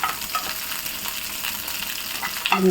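Rose petals frying in ghee for a rose chicken biryani, a dense, even crackling sizzle close up with a brief clatter near the end.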